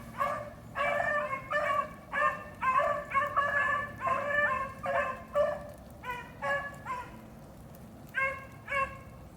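Hunting dogs bay and bark while chasing a rabbit on a rainy day in Delaware, a steady run of loud, rhythmic yelps and howls from several dogs fairly close, with short pauses between volleys.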